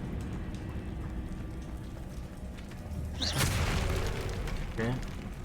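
A Confringo fire-blast spell bursting in Hogwarts Legacy, one sudden booming crackle midway over a steady background hiss, followed by a smaller burst, with a voice nearby.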